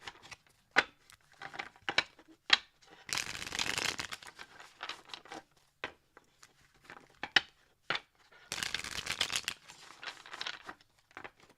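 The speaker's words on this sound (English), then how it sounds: "let me shuffle a couple more" Tarot cards are shuffled close by in two longer riffling bursts, broken up by scattered crisp snaps, flicks and light taps as the deck is handled.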